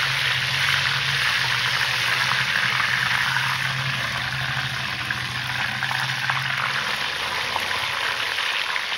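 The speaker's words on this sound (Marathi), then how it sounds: "पुदिना जवळपास 1 जुडी आणि कोथिंबीर अशी थोडी थोडी आपण कुरकुरीत तळून घ्यायची." Fresh mint and coriander leaves deep frying in hot oil until crisp, a dense continuous bubbling roar that stays loud and even throughout, close up with no talk.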